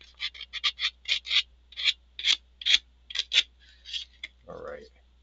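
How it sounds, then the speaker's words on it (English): Rhythmic rasping strokes of hand sanding a 3D print, about a dozen short scrapes in a steady back-and-forth rhythm, close and quiet, ending with a soft knock. "I'm going slow with the sanding here"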